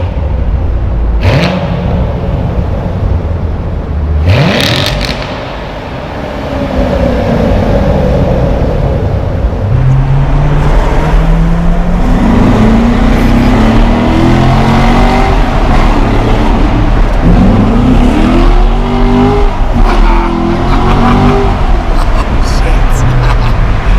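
A C7 Corvette Stingray Z51 on its stock exhaust roars close and loud, climbing through rising engine pitch in several pulls with shifts between them, while voices talk underneath.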